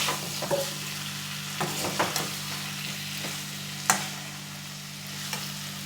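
Coarsely mashed boiled potatoes fry with spices in a pan for a fish alu ghati, with a soft steady sizzle, a low hum underneath and a few scattered scrapes and taps of the spatula, with nobody speaking.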